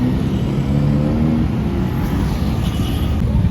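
Busy Bangkok road traffic with a nearby engine droning and revving as vehicles move past, close and fairly loud with a steady low rumble and no speech.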